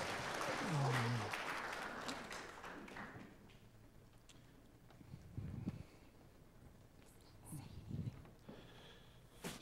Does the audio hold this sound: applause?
yes